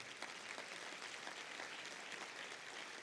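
A church congregation applauds during an Easter resurrection sermon, producing a continuous wash of clapping that sounds distant and quiet.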